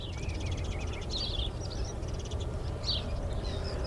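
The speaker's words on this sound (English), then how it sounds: "The sounds of the birds singing." Birds sing and chirp in the morning at a lakeside camp, scattered high chirps and short warbles over a steady background rush of wind or water, with no talking.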